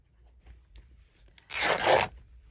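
Scissors cut across fabric meant for stitching, a single close, loud rasping snip-and-tear lasting about half a second after a quiet pause.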